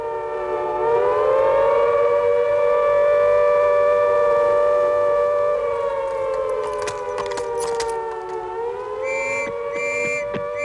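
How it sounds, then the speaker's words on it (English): Air raid sirens wail in wartime London at the outbreak of war with Germany, a loud, sustained rising and falling tone holding steady for about ten seconds, with other siren tones and scattered clatter joining near the end. "Within seconds, the sirens sound."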